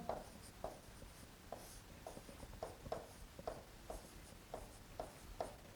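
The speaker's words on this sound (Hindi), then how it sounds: "यहां लिख देता हूं मैं" Chalk or marker strokes on a classroom board make a faint, rhythmic series of short scratchy taps, about a dozen evenly spaced marks written close by, with no speech.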